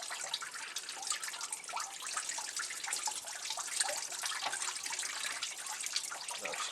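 Water trickles and drips steadily from a homemade press squeezing a soaked sawdust and paper log, a continuous close splashing with fine irregular drops and no talking.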